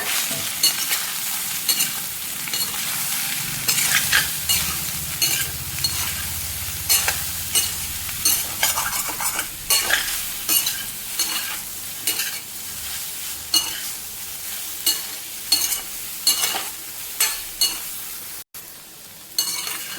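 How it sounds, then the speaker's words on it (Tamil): Soya chunks fry with chili powder and turmeric in a hot pan, a continuous sizzle broken by frequent scraping stirs of a spoon against the metal, close and loud without any talking. "எல்லாத்துலேயும் நல்லா மசாலா பாடுற மாதிரி 1 நிமிஷம் நல்லா வறுத்து எடுத்துக்கலாம்"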